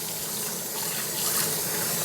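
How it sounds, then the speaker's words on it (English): Dishes are rinsed under a running kitchen tap in a small home kitchen, a steady close hiss of flowing water with no talk. "So if I rinse these dishes,"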